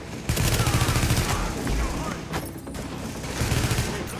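Rapid gunfire bursts in the video game The Division, played in co-op on PS4, with repeated automatic shots in short volleys at the start and end, mixed with in-game effects.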